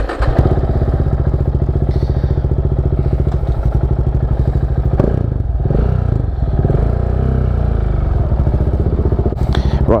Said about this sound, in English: Bike turns on, that's a start.